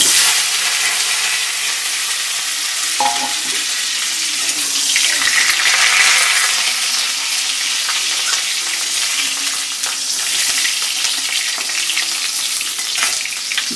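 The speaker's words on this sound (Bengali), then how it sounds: "এখন আমি আলুগুলো ছেড়ে দেবো" Sliced potatoes frying in hot oil for a rui fish kalia, giving a steady, bright sizzle that runs continuously with occasional stirring and clinking of utensils.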